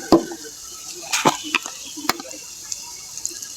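Turmeric and chili powder fry in a pan with salt for a spicy fish bhuna, giving a low steady sizzle broken by a few sharp scrapes and clinks of stirring, close and fairly quiet.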